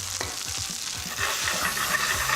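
Gnocchi sautéing in a hot pan, a steady close sizzle with soft stirring and scraping as the pieces are moved, rising slightly in intensity partway through.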